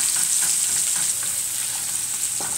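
Chopped onion fries loudly in a pan with a steady, close bright sizzle and occasional stirring scrapes over a short continuous stretch.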